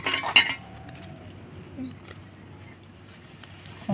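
Bell-metal plates and bowls being washed, heard as a few bright metallic clinks near the start, then a quiet background of faint chirping and occasional small taps.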